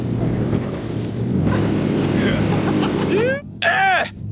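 A motorboat speeding across open water back to shore, its engine a loud steady roar with wind buffeting the microphone, then a short break and voices talking over the noise.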